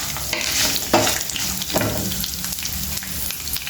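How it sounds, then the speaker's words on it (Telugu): Sesame seeds frying in hot oil for a stuffed brinjal curry, a loud close sizzle with bursts of stirring scrapes about every second, continuous and without talk. "కొన్ని నువ్వులు లాస్ట్లో వేసుకోవాలండి తొందరగా ఫ్రై అయిపోతాయి కదా"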